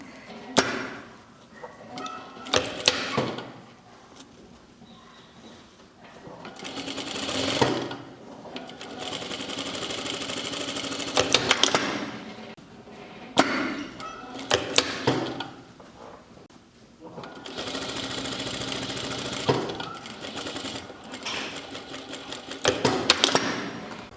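A sewing machine stitches a seam closing a pleat on a shirt, running in several loud bursts of rapid needle clatter separated by brief quiet pauses.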